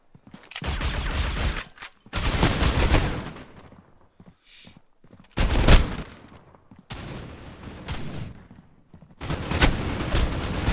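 Gunfire in the mobile shooter Critical Ops, several loud, close bursts of rapid shots separated by brief silences, heard alone without talk.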